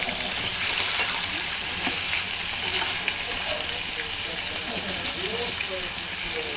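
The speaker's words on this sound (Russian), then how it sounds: "печень только попала на сковороду, она сразу уже изменяет цвет" Steady, dense sizzle of roe deer liver frying in a hot pan, with occasional stirring scrapes and faint voices in the background.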